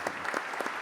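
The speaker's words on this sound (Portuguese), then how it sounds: "eu gostaria de pedir uma salva de palmas" Brief, soft applause from an audience at a solemn ceremony honoring sport shooters. It lasts a moment at an even level, with no distinct voices.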